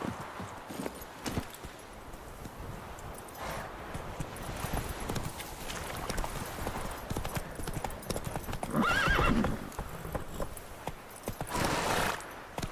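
A horse in The Witcher 3 video game galloping with rapid rhythmic hoofbeats and a loud neigh midway, mixed with game sounds and occasional faint talking.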